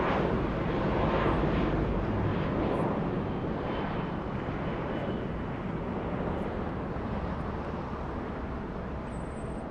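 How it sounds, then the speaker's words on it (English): A Turkish Airlines Boeing 787 Dreamliner begins to move at LAX with a steady, distant engine roar that holds even throughout, broad and unbroken, with no speech. "I think we can stay with the Turkish 787 Dreamliner. I think it's about to start moving."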